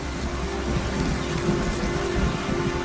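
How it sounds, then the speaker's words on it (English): Steady rain falling and pattering on surfaces, a dense continuous wash with a low rumble underneath, fairly loud and close, no voices. "It's starting to rain."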